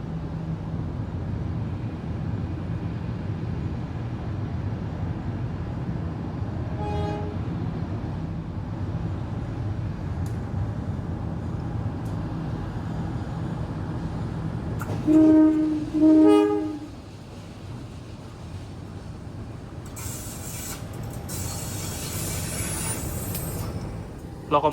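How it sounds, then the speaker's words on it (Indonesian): Serayu economy train hauled by white-and-blue locomotive CC2030203 passing Leles station, a continuous low rumble of rolling cars with brief horn blasts, a louder surge in the middle, then a fading hiss. "Lokomotif kereta api Serayu CC2030203 Depo Induk SDT ya."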